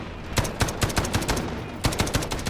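Rapid gunfire bursts from the video game Delta Force: Black Hawk Down, with repeated close, loud shots in quick rhythmic volleys and a steady battle din between them.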